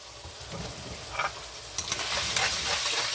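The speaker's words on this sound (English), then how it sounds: "Now, I'm going to go ahead and throw this garlic in. Boom, so they can cook in with it." Garlic dropped into a hot pan alongside cooking steak for cheese steak sliders, a close sizzle that swells in the second half with a few sharp spatters and scrapes, and no speech.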